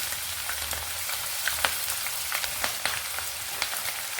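Mustard seeds, green chillies and chopped onion frying on low heat, a continuous hiss with scattered small pops and crackles, close and without any voice.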